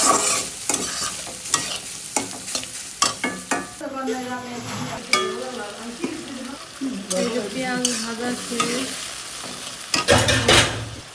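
Potatoes and onions crackle and sizzle together in a pan as a spatula repeatedly scrapes and turns them, up close, with occasional clinks of metal.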